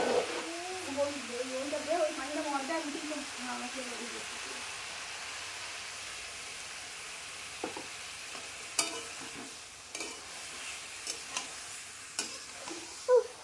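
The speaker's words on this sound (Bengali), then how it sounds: "এই যে এখন হলুদ দিলাম" Turmeric added to hot oil in a pan and stirred, a steady hissing sizzle with scraping stirs and light clicks, someone talking over it early on.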